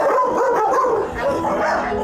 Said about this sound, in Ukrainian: Хороший собака, да?